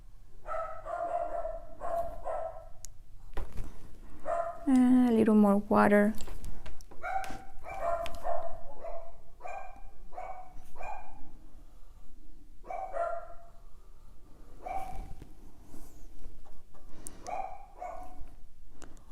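Small dog barking repeatedly nearby in short yappy bursts, with a strained whining howl in the middle, while a person talks calmly during an acrylic painting session.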